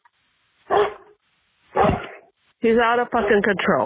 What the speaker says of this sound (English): you can hear him in the background. I have the goddamn dog again.